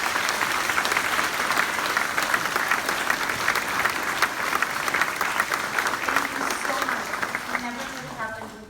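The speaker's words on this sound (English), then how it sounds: "Please let's give them a round of applause." A crowd at an elementary school groundbreaking ceremony gives a round of applause, a loud dense sustained clapping that fades out near the end as a voice starts talking.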